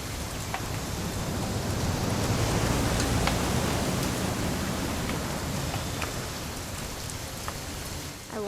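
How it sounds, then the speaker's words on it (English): Rain falling in the video game What Remains of Edith Finch: a steady, fairly loud hiss of heavy rainfall, with scattered drips and small splashes standing out, continuous for the whole stretch. "It's gonna rain the whole weekend,"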